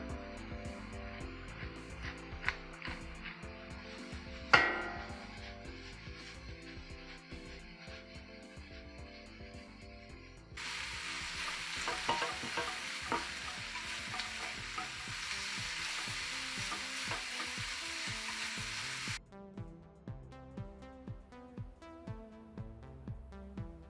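Bacon frying in a pan with leeks, rendering its fat: steady close sizzling and crackling with intermittent stirring scrapes and clatter, a brighter hissing burst in the middle, no talk.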